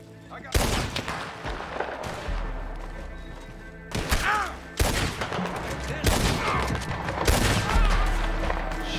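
Gunshots in the video game Red Dead Redemption 2: a handful of loud, booming reports spaced a second or more apart over a steady background rumble.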